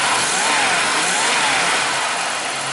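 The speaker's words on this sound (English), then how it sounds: "And if we rev the engine up," A '93 Buick V6 engine revs up close under the hood, a loud, steady mechanical roar with a slowly wavering pitch throughout.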